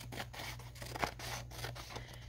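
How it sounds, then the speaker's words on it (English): Scissors trim along the edge of a paper page for a junk journal, making a string of quiet, repeated snipping cuts close to the microphone. "Oh, I'm using those scissors again."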